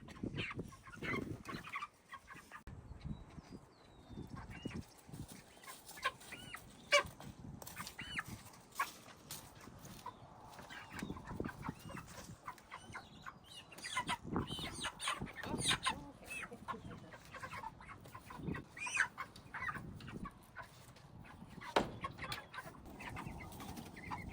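Several meat chickens in a chicken tractor cluck and squawk at close range in a busy, overlapping chorus, with occasional louder calls rising above the steady clucking.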